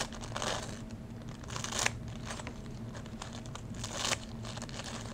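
Sharpened shears cutting material, three crisp snipping crunches spaced a little over a second apart over a steady low hum, faint and close.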